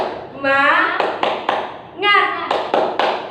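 A primary school class doing a rhythmic spirit clap with their teacher, two bursts of chanting voices each followed by sharp, evenly spaced group claps, close and loud.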